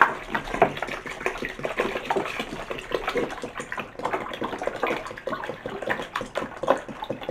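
Spring water pouring from a gallon jug into a vessel for strawberry banana wine, a continuous close, gushing, bubbling flow at moderate volume, alone without talk.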